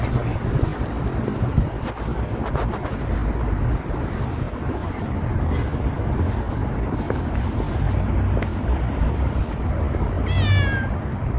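A stray cat walking alongside a person on an outdoor path gives a single short meow near the end, over steady low rumbling background noise and wind.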